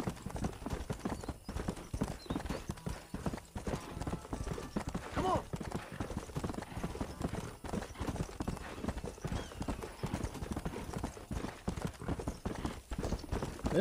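Horse hooves clip-clop rapidly and continuously in the Red Dead Redemption video game as a horse gallops in a race, a dense rhythmic pounding with faint background noise and no clear talk.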